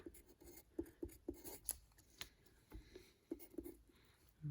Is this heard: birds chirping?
no